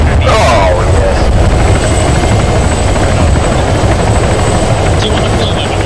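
An Arma 3 helicopter roars loud and close with steady rotor thumping throughout, while voices talk briefly over it.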